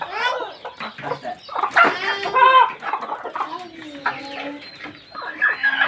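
Broody hens cluck and call loudly close by, in a run of uneven, overlapping bursts with short pauses between them.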